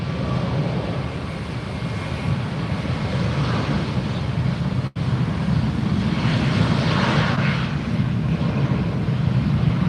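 Southwest airliner arriving at Fort Lauderdale airport, a loud continuous jet engine roar with rising and falling broadband rush heard from nearby, no talk.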